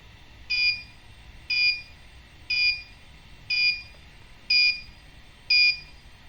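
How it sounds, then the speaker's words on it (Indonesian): Six evenly spaced electronic beeps from an MQ-2 gas sensor alarm buzzer, triggered when the reading exceeds 500, each a short high-pitched tone about a second apart, over a low background hum. "jika datanya lebih dari 500 akan berbunyi. Jadi seperti alarm, nyala alarm twing twing twing"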